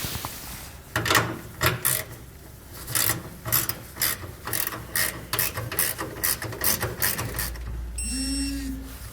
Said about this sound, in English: And we're actually going to be torquing these down. We're going to need a 9/16 inch socket for these.